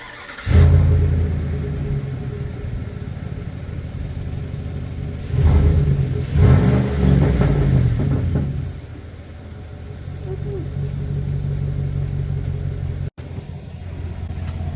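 A 2019 Chevrolet Silverado pickup with a cold air intake starts up and idles, then its engine revs loudly twice in quick succession before settling back to a steady, close rumbling idle.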